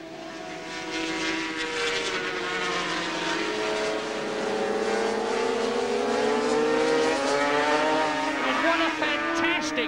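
Red and white 500cc V4 Yamaha Grand Prix racing motorcycles of 140-plus horsepower, engines screaming loudly and continuously with rising and falling pitch as bikes pass near on the circuit, a commentator talking over them.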